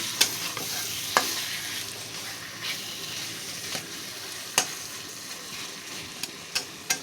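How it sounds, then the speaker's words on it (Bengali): Whole lote fish sautéing with spice paste in a pan, a steady close sizzle broken by sharp scraping clicks of a spatula stirring at irregular intervals, with no voices. "দেখো সুন্দর করে মাছের সঙ্গে মশলাটা কষিয়ে নেব"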